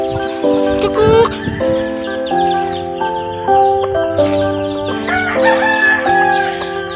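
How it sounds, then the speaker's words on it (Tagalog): A fighting rooster crows loudly and close by, with repeated drawn-out calls over other steady tones. "panabong na manok"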